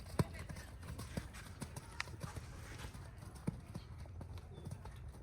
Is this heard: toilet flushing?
no